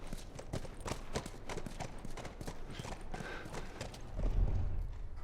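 Horse hooves clip-clop steadily indoors in The Last of Us, a 2013 PS4 game, a close, rhythmic run of hoof strikes with thuds that briefly swells louder near the end.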